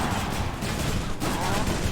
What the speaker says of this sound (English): These explosions make super hard to see